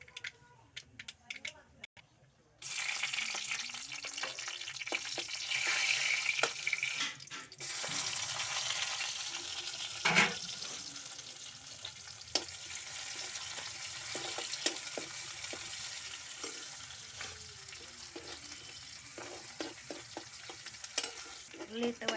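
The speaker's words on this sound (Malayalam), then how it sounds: "കടുക് പൊട്ടിക്കാം." Mustard seeds crackling in hot oil in a home kitchen while cooking kappa biriyani, with scattered sharp pops and sizzling alongside stirring and water sounds, and a voice talking at times.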